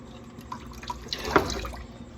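Tap water running and dripping into a sink or large bowl while washing dishes at home, a soft uneven trickle with a brief louder splash near the middle, no talking.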